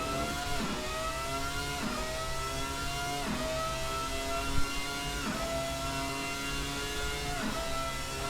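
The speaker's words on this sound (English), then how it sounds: "And the throttle blips on the downshifts, very impressive, both in the cockpit and from the outside" Ferrari F300 Formula One car in the racing game Assetto Corsa, its high-revving engine screaming continuously and dropping in pitch at regular gear shifts roughly every one and a half seconds, loud and steady throughout.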